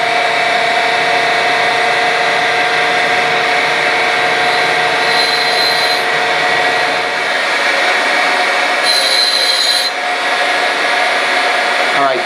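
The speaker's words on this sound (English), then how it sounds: "What we're going to do is we're going to take an initial dressing off the wheel." A grinding wheel being dressed a thousandth at a time, giving a loud, steady machine whine with a bright, hissing grinding edge that swells in two short bursts, continuous throughout with no talk.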